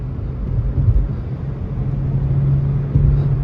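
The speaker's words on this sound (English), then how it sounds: "we're getting on the freeway in this Sonic. Whoosh, she loud." Loud, steady low engine drone and road rumble from inside a 2012 Chevy Sonic LS with a 1.8 engine at freeway speed, constant throughout with no speech.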